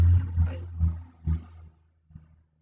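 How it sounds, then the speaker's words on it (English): A passing truck rumbles low and faintly in the background, swelling in a few short surges before fading away. "It's just truck passing by."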